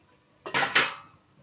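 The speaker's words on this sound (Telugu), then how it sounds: "మూత పెట్టి" A metal lid set onto a cooking pot of bottle gourd curry simmering in tamarind broth, giving a short clattering clink with a quick second knock, close and fairly loud against a quiet kitchen.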